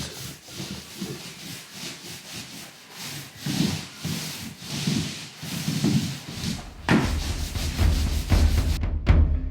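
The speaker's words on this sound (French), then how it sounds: "on va faire notre couche en peignant dans le sens de la fibre du bois, enfin en peignant, en vitrifiant dans le sens de la fibre du bois" Repeated brushing and rubbing strokes of varnish being applied along the grain of a wooden parquet floor, steady swishing passes growing louder and closer toward the end, no voices.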